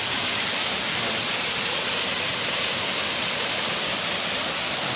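Tat Nam Haeng waterfall in Muang Houn, Oudomxay, a steady, dense rush of falling water, loud and unbroken, with no voices.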